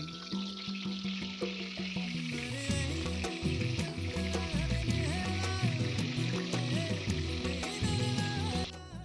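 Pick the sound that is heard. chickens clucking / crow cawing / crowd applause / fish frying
fish frying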